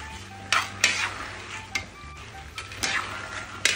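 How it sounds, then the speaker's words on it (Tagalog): Peanuts are stirred without pause in a pan as they slowly toast, giving a steady dry rustling and scraping with repeated louder scrapes of the utensil every second or so, close and fairly quiet. "walang hinto po talaga nating hinahalo itong ating mani para maganda po ang pagkakaluto"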